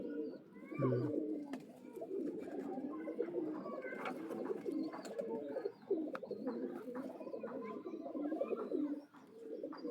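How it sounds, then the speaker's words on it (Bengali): A pair of Fulshira pigeons coo repeatedly nearby, soft throaty calls overlapping with light flutters and a few small chirps. "এক জোড়া ফুলশিরা কবুতর, ডাইরেক্ট জেনারেশনের কবুতর"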